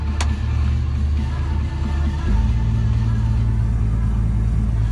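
A Valtra tractor engine idles with a steady low rumble before spreading slurry for maize, its drone deepening and growing slightly louder midway, with no talking.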